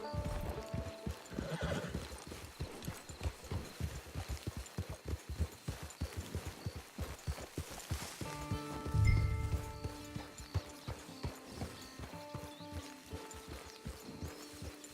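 A horse in a Western game clip-clops with rhythmic hooves while walking, lets out a loud neigh partway through, and then its steps continue alongside faint background music.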